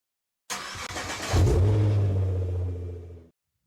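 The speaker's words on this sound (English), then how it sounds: "Engine start." A car engine cranks and catches, then settles into a steady, low idle rumble for a couple of seconds before cutting off.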